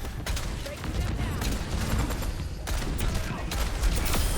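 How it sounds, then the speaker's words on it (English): Pharah firing a concussion blast and rockets in Overwatch 2, a dense, continuous barrage of booming blasts and whooshes over loud game noise, with a voice talking over it. "Use the concussion blast and the rocket at the same time to do a little bit of extra damage"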